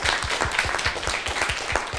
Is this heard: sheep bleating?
no